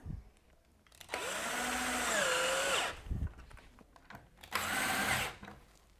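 Power drill driving screws while fitting a friction hinge, with two whirring bursts of a few seconds each separated by quiet pauses, close and fairly loud.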